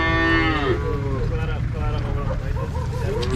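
A cow lets out a long, loud moo close by at a cattle market in Uzynagash, Kazakhstan, and people talk over the busy market noise after it.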